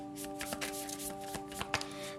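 Tarot cards riffle and slap in quick, soft shuffles at close range over a faint steady hum, with no talking.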